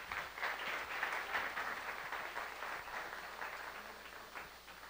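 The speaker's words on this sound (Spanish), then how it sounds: "Un aplauso para ellos" Audience applause fills a business conference hall after founders of a Mexican entrepreneurship association are introduced, a dense, steady clatter of many hands that holds at an even level for several seconds.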